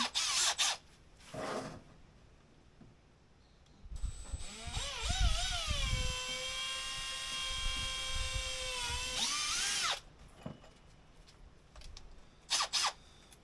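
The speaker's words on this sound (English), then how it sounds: "So I've got to drill a hole in here, install that." A power drill whines steadily for several seconds, pitch rising as it spins up, drilling a hole to install a diesel heater, with short mechanical bursts and handling noise before and after.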